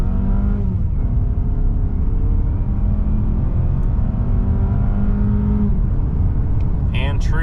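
A 2023 Mazda CX-30 Carbon Edition pulls hard through a 0-60 run, its engine note climbing steadily through gear changes with a continuous close road rumble and no talking.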